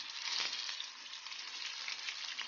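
Onions fry in a pan with a steady, fine crackling sizzle, close but fairly quiet and unbroken, with no one talking.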